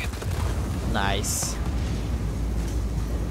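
Explosions in the video game Just Cause 4 rumble as deep, continuous booms throughout, while someone speaks briefly over them.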